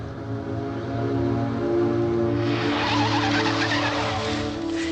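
A car from the 1960s races along at speed with a loud, steady engine drone, then a rising rush of tire and wind noise takes over partway through.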